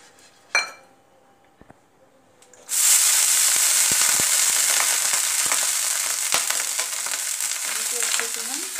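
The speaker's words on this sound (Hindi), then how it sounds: "अब इसी तरह से हम दूसरा डोसा डालेंगे" Semolina (rava) dosa batter hits a hot griddle and breaks into a loud, steady sizzle that continues without a break, after a few quiet scrapes and taps on the pan.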